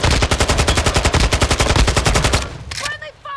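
Rapid automatic gunfire in the shooter Call of Duty Warzone, a loud, steady burst of about twenty evenly spaced shots that stops abruptly, followed by fainter clicks and a short voice.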